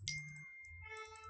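A single computer mouse click during Photoshop editing sounds once near the start, small and crisp, followed by a quiet steady tonal hum with no talking.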